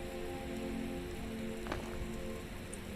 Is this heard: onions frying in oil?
no